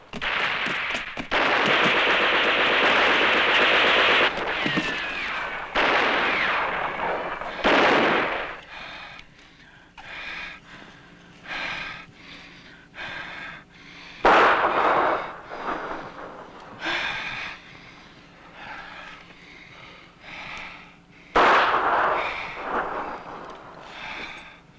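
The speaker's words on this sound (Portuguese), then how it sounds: "Toda vez que isso começa, esses tiros, essa guerra" Sharp gunshots crack out in irregular bursts, some loud and close, others scattered and fainter, with gaps of near-quiet between them.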